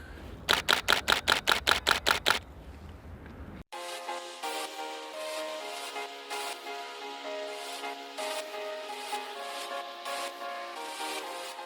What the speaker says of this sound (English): you can hear the speed in the shutter here